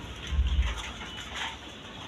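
A pair of Danish pigeons gives a short, low cooing burst early on, followed by quieter background noise.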